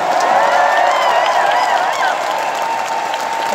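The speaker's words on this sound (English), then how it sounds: "So everybody give a round of applause for Edgar Wright." A large crowd at the Royal Albert Hall gives Edgar Wright a continuous, loud wash of applause with scattered cheers and whistles rising above it.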